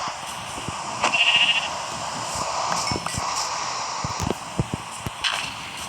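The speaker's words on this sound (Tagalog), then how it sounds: "Daming tupa." A short sheep bleat in a video game rises out of a steady background hiss with scattered soft clicks and rustles, one clear bleat near the start.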